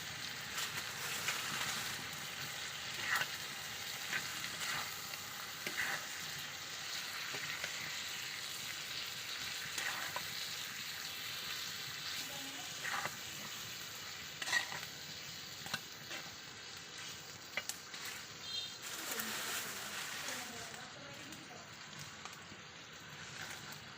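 Tomatoes and onions fry in oil as the base for fish roe, a soft continuous sizzle with scattered crackles and light stirring scrapes, moderately close and steady throughout, with no voices.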